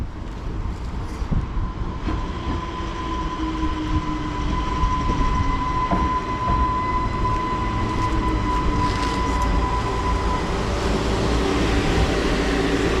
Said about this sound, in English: arriving in now is the 1339 London North Western Railway service to Bedford